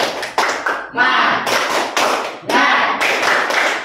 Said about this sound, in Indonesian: Coba tepuk tangan semangat ya